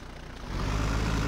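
A tractor engine in the Farming Simulator 2015 video game turns over and catches, settling into a loud, steady low idle that fills the rest of the moment with no talking.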